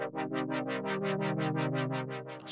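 Sustained synth chord in FL Studio whose filter is modulated by a triangle-wave LFO, producing steady, even rising-and-falling brightness pulses at a quick regular rate, with no talking.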